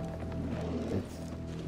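Horse hooves clip-clopping in the video game Gears 4, a brief run of muffled hoofbeats over low background rumble.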